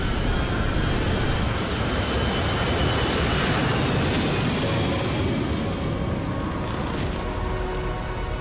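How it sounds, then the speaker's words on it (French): Airplane engine in Grand Theft Auto, a loud, steady, broadband roar that holds continuously at close range with no pauses or voices. "Je l'ai localisé, il a pris son avion."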